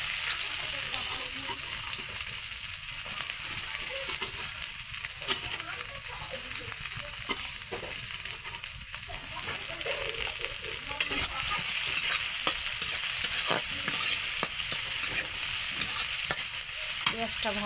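Chopped onions frying in hot oil, a steady close sizzle with repeated scraping stirs of a spatula throughout.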